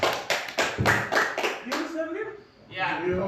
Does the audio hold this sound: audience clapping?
yes